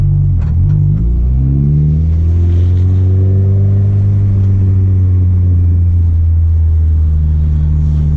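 A manual car pulls away from a stop in first gear, its engine note rising in a loud, close, steady rumble as revs climb and then hold, with no one speaking.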